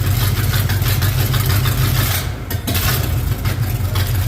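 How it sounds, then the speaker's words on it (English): A 350 Chevy engine idles out in a field, a loud, rough, low rumble with an uneven throb that stays close and keeps going without a break. "they got the 350 Chevy fired up"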